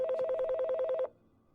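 A phone rings nearby, a rapid pulsing electronic trill that repeats evenly for about a second and then cuts off, leaving quiet room tone.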